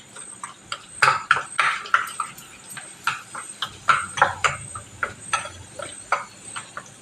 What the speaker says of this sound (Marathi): आपण हे दही छान फेटून घेऊया.